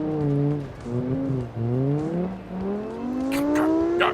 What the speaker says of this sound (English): Hearing that popping coming out of that exhaust and seeing the flames popping out of it is quite amusing.